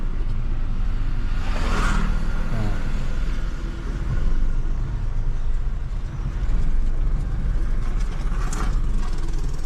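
A motorbike rides past a car during a driving lesson, its engine swelling briefly and then again later over the steady rumble of the moving car's engine and road noise.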